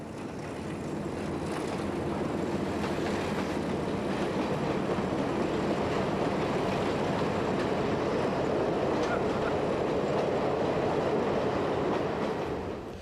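A Chinese ND4 diesel locomotive and train run near Beijing, giving a loud, steady rumbling roar with rushing rail noise that holds for the whole stretch, with no voices.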